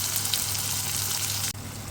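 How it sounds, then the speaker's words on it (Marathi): Tomatoes with asafoetida softening in a hot pan, giving a steady, close sizzle and frying hiss that runs unbroken with a brief dip near the end. "टोमॅटो नरम होईपर्यंत त्याला शिजू द्या."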